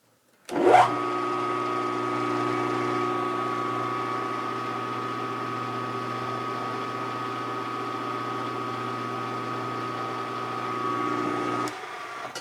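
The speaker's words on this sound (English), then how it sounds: "I want to see if I can loosen this belt or something to make it quit making so damn much noise." A steady, loud mechanical whine with a constant tonal hum runs unbroken for about eleven seconds, starting abruptly and cutting off at the end, from an overtightened drive belt on a running machine.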